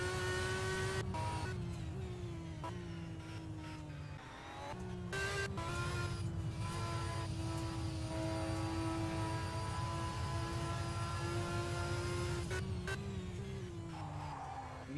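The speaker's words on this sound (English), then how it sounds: "That engine not sounding too healthy at all" Racing game race car engine at high revs, strained and unhealthy-sounding, a steady droning whine held near flat out with brief dips and shifts, plus a couple of sharp bangs, no voices over it.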